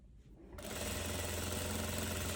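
An overlock sewing machine starts up and runs at a fast, steady whir while hemming a dress ruffle, loud and close, with a short quiet moment before the motor kicks in.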